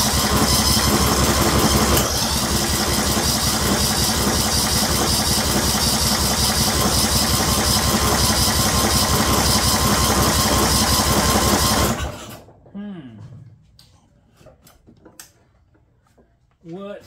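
An engine on a 2004 Murray 12.5 HP lawn tractor with a 38-inch deck runs loud and steady for about twelve seconds, then cuts off abruptly. A quiet stretch with a few faint knocks and brief speech follows.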